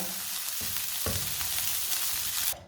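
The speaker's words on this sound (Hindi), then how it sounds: "मसाले को मैंने 2-3 मिनट के लिए भून लिया है" Chicken masala for chicken rolls being fried in a pan, a loud, continuous close-up sizzle with a couple of stirring knocks, ending abruptly.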